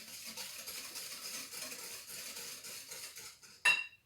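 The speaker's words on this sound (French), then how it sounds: "je le verse dans le saladier, je remue." A spoon scrapes around a mixing bowl as yogurt cake batter is stirred with sugar. The scraping is steady and close, and a sharp clink sounds near the end.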